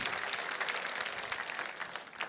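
Sustained audience applause fills a gala hall, a dense, steady wash of many hands clapping at moderate loudness with no talk over it.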